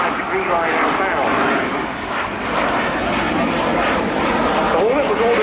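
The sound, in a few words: Hornet jet aircraft accelerating into a Cuban 8 manoeuvre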